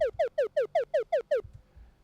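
A chiptune sound effect with a closed filter and a smooth volume fade-in repeats eight times in quick, even succession. Each note is a short descending chirp, followed by a brief quiet tail.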